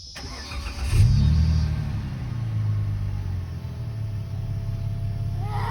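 A Dodge Charger's engine catches after a fuel pump replacement, rising to a brief rev and then settling into a steady, close idle rumble.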